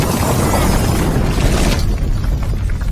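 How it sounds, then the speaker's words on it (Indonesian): A bomb blast in an action film, heard as a loud, sustained broadband roar that fills the whole clip and dies away slightly toward the end, with no talk over it. "Namun ledakan bom itu tidak merubah apapun."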